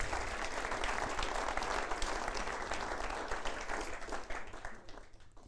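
An audience at an award ceremony applauds a recipient, Paula Rosa, as she joins the stage: dense, sustained clapping across a hall that holds steady, then thins slightly near the end.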